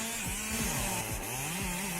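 A chainsaw cuts into a tree in frozen winter forest, its engine whining steadily and loudly with repeated pitch dips as the chain bites into the trunk.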